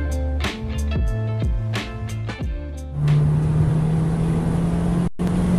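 A Fiat 500 Abarth sits on a race track and revs hard as a timed lap begins, its engine climbing through the gears in loud rising sweeps with short dips at each shift, then settling into a steady, sustained drone.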